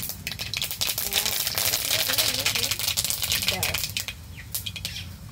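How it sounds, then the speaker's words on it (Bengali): Mustard seeds splutter and crackle in hot oil, a dense burst of rapid popping that fades after about four seconds, with a voice talking over it. "তেল গরম হয়ে গেছে, সর্ষে দিয়ে দেবো, দেওয়ার সাথে সাথে সব ছিটে ফুটে বেরিয়ে যাবে বাইরে।"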